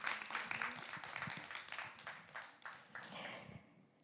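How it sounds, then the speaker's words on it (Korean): An audience claps for a departing speaker at the close of a talk event, a steady wash of applause that holds for about four seconds before thinning out slightly. "큰 박수 부탁드리겠습니다"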